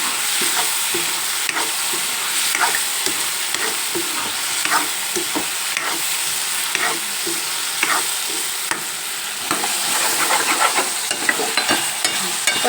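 Potato and brinjal curry being stirred in a frying pan, with a steady sizzle and repeated scraping strokes of the spoon running throughout, close and fairly loud, no voices.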